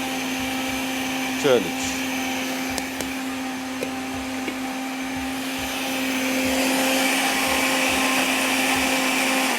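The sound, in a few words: grinder blending chutney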